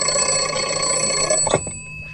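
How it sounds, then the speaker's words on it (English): Telephone in a cafe kiosk ringing loudly with a steady bright bell tone that cuts off abruptly near the end, followed by a brief clunk, with no voices. "The phone rings."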